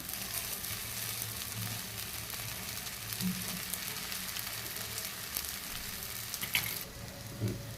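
A cucumber thalipeeth cooks on an oiled pan, giving a soft, even sizzle that hisses steadily at low volume with a few faint clicks near the end.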